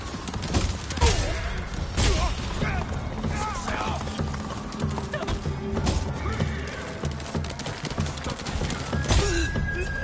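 Rhythmic hoofbeats of a galloping horse in the video game Ghost of Tsushima: Iki Island, with game sound effects, a whinny and clattering mechanical noises over a busy, dense background.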